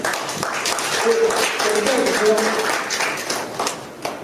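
An audience applauds to welcome a guest lecturer at a business breakfast forum, the clapping blending with chatter and voices around it.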